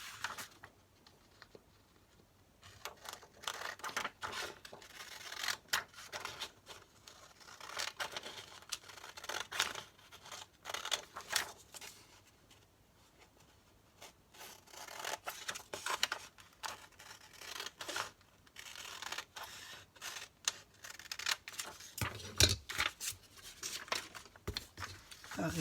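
Scissors or a cutter slicing through a traced phone holder pattern for a wall-outlet charging stand, giving irregular close snips, scrapes and paper-like crinkles with brief pauses between bursts.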